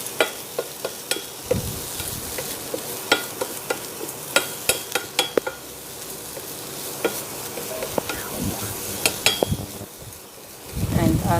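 Moong dal sundal being stirred in a pan sounds as a run of sharp metallic scrapes and taps from a spoon against the pan over a faint sizzle, with repeated quick strokes and no speech.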